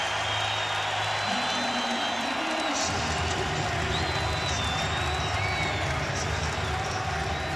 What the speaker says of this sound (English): Listen to the Palace crowd.